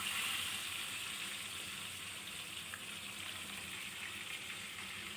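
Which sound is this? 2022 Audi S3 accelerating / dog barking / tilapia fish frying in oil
tilapia fish frying in oil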